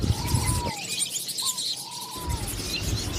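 Caged pet birds at a bird seller's stall, such as lovebirds, budgerigars, cockatiels and finches, give a few thin whistling chirps over steady background hiss, sparse and moderately near.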